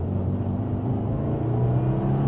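Engine of a 2025 Subaru WRX tS pulling steadily in second gear on a winding road, a continuous loud low drone with rising harmonic tones, close and alone without talk.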